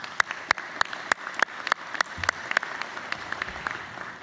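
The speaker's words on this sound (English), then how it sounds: "A round of applause for Greg, please." Light applause from a chamber of commerce luncheon audience, a few distinct hand claps landing in a quick, uneven rhythm that thins out toward the end, fairly close and alone without talk.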